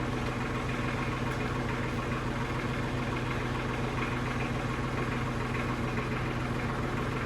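A tractor engine idles steadily close by in a barn, a continuous low rumble with a fine, even pulsing throb and no other sound over it.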